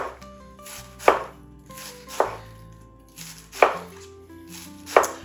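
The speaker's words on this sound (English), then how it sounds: "I am going to shred this lettuce" A sharp knife cuts through lettuce onto a cutting board, five distinct thuds spaced about a second apart, close and crisp, with faint crunching between strokes.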